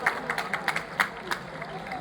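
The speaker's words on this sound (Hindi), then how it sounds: "जोरदार तालियां आयुषी के लिए।" Audience applause for Ayushi, a BPSC-selected student being honoured, with scattered claps standing out over crowd murmur.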